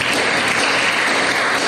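A church congregation applauds, dense and continuous clapping filling the room steadily for under two seconds.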